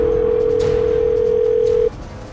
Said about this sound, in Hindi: रिंग जा रही।